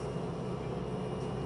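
A Lada Niva cruising on a highway, with a steady loud drone of engine, drivetrain and road noise heard from inside the car and no speech.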